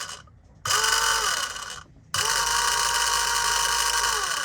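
A newly installed marine diesel fuel polishing pump runs with a steady mechanical whir and ticking, starting, briefly dropping off, then restarting and holding a loud, constant drone close by.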